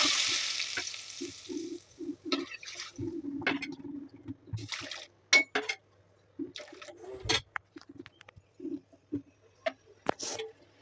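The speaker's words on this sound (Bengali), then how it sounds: "এখন আমি এটার মধ্যে চাউল ছেড়ে দেবো।" Rice goes into browned frying ingredients for a thin masoor dal dish and gets stirred, giving intermittent scraping and soft sizzling bursts with quiet gaps, close by, after an opening hiss of frying.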